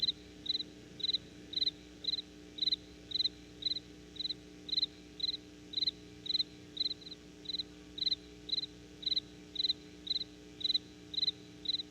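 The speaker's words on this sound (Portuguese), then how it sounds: "aparece aquele grilo abençoado" Steady, rhythmic cricket chirping, short pulsed trills repeating about twice a second, fairly close, over a faint low hum.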